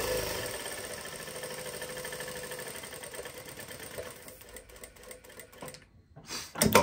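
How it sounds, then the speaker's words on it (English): Brother direct drive lockstitch industrial sewing machine sewing, a fast steady mechanical rattle that thins into uneven bursts and stops briefly near the end before a short final burst. "We will now give you a short demonstration of the machine sewing."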